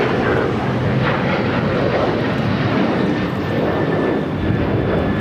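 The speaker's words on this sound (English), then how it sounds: "This is United Airlines 1069 taking off to Chicago on the 737-900ER" United Airlines Boeing 737-900ER taking off from LAX bound for Chicago, a loud, continuous jet engine roar with a dense low rumble, sustained throughout, with no speech over it.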